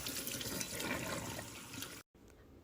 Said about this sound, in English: at this point I'm going to rinse with cold water